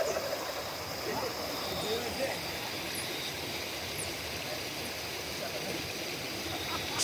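A river flows with a steady, soft broadband rush near a campsite by an unfinished bridge, faint and continuous with a few small splashes and distant chirps.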